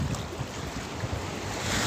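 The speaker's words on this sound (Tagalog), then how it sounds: "ito na po talaga yung dagat." Sea waves wash steadily near the mangroves at Lianga, Surigao del Sur, a continuous broadband surge mixed with gusty wind buffeting the microphone, with no voices.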